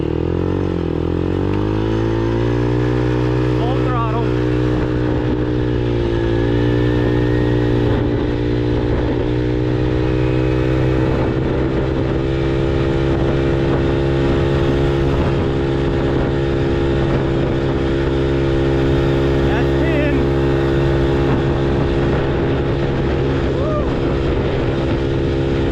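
New kickstart motorcycle on a speed pass, its engine droning loud and steady at high revs throughout with slight pitch shifts, the rider's voice faintly under it.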